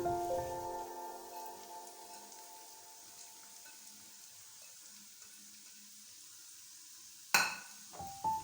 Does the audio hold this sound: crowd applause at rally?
no